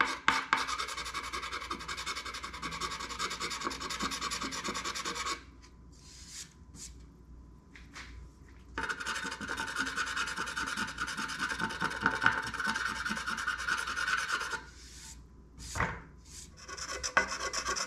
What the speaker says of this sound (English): So I'm just scraping all the extra off